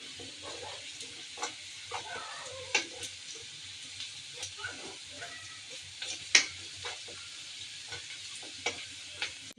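Leafy greens stirred in a pan with oil, dried chillies, garlic and onion, giving a steady soft sizzle broken by repeated scraping and clinking strokes at an irregular pace, close and fairly quiet with no talking.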